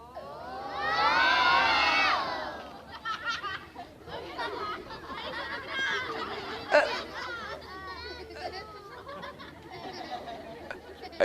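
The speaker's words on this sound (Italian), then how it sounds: "Non so se sentite anche le urla." A crowd at the Venice Carnival screams and shrieks loudly at first, then breaks into excited chatter, laughter and shouting children, with people talking throughout.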